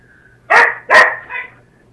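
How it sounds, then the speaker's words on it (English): An excited dog barks indoors at close range: two loud, quick barks followed by a softer third yelp, then quiet. "My dog's all excited about this."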